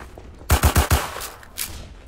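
Gunfire in the Roblox D-Day game with the Assault class: four loud rapid shots in a quick burst, followed by a fainter shot, with no talking.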